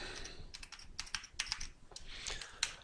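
Fast, close clicking of keys on a computer keyboard, a quiet burst of irregular taps with small pauses, heard alone without talk.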